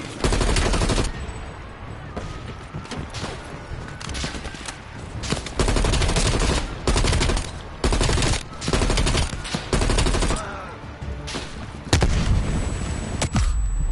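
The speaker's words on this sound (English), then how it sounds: "they shooting RPGs" Heavy gunfire and rocket-propelled grenade blasts in Call of Duty: Black Ops Cold War, with dense overlapping bursts and booming impacts filling the whole stretch, loud and close.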